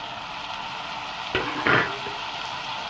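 Tomatoes go into a pan of softened onions and are sautéed, giving a steady frying hiss. Two brief louder scrapes and clatters come from the stirring midway, and no one speaks.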